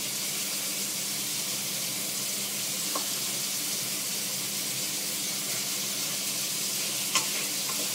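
Veal strips sizzle in a wok as they are sautéed, a soft, continuous frying hiss with a couple of faint clinks from stirring, and no one talking.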